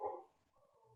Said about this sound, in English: Another dog was barking over outside.